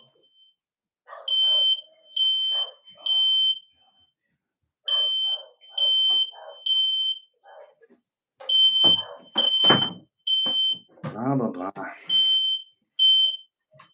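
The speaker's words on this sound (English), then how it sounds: "My smoke alarm went off there." Household smoke alarm sounds in repeated bursts of loud, piercing beeps, with a person talking between and over the chirps.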